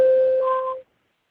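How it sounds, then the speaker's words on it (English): A single clean electronic warning tone sounds on a court oral-argument phone call to mark three minutes remaining, one clear beep lasting just under a second before cutting to silence. "we will sound a tone that sounds like this"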